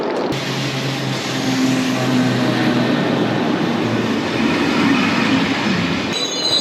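A train rolls through a Swiss or French railway station, a loud, sustained rumble of wheels on rails with faint squealing tones, continuous for several seconds at close range.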